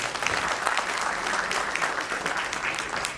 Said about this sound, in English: I would request you to put a huge round of applause